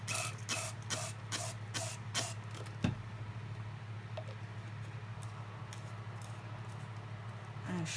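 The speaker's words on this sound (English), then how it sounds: "I'm going to spray some water in there" Several quick, sharp spritzes from a spray bottle of water into a paint cup for acrylic paint pouring come early, followed by quieter handling noises over a low steady hum.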